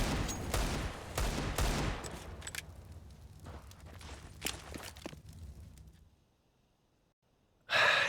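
In a Counter-Strike match on Dust2, a flashbang and bursts of gunfire sound as rapid shots and sharp cracks in the first seconds, then thin out to scattered pops before quiet and a final loud burst.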